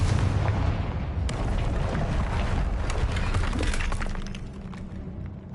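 A Confringo explosive spell cast in Hogwarts Legacy sets off a burst of crashing, shattering blasts that roll on loudly for several seconds before tapering off.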